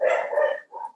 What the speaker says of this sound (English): Somewhere there's a dog barking in my house.